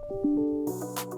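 The Windows 'Notify Email' alert chimes as a short, bright tone sequence from a Windows 10 computer running Outlook, heard once with clean sustained tones and a hiss-like burst near the end.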